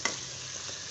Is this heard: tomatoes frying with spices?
yes